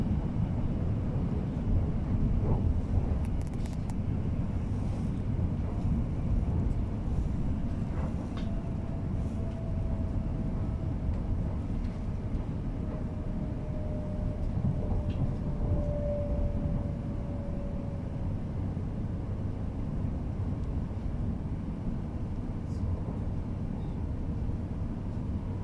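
A West Midlands Railway Class 323 electric train runs steadily, a constant low rumble of wheels and motors sustained throughout, with a faint rising whine partway through; no one talks.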